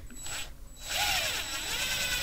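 An M5x20 screw is driven into a threaded hole on a sorter assembly, giving a short close mechanical ratcheting and whirring sound with a brief pause before it.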